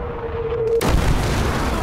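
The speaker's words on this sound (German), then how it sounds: "ich hör ja den Schuss durch die Luft fliegen" A loud whooshing gunshot tears through the air in the WWII game Gates of Hell, a sharp broadband blast that cuts off a steady tone and rolls into a sustained, rumbling wash.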